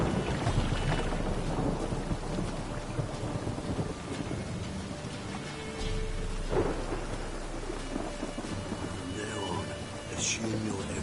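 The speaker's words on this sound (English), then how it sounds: "It just rains and rains." Heavy rain and a thunderstorm in The Witcher video game: steady hiss of rain on surfaces with rolling thunder rumbles swelling through, and faint voices mixed in beneath the downpour.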